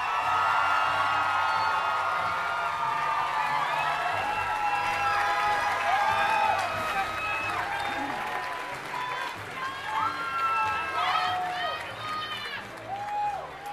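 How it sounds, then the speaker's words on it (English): A crowd at the 2011 USC Annenberg School of Journalism commencement breaks into sustained applause with cheers and whoops for the graduating class, a dense wash of clapping that slowly tapers, with voices mixed in. "Another round of applause for the class of 2011."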